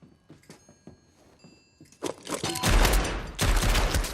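Gunfire in a Django film scene: a quiet stretch of soft taps and low sounds gives way to loud, dense bursts of shots and crashing impacts that continue to the end.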